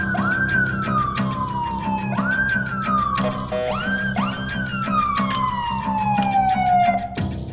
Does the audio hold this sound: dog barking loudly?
no